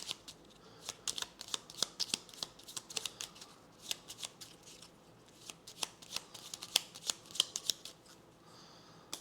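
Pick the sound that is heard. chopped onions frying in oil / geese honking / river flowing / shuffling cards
shuffling cards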